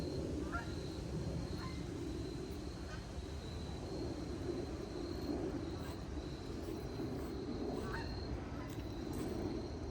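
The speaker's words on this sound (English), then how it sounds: "I hear the geese flying." Faint geese honking at a distance over a steady rumbling background, with a few short calls scattered across the clip.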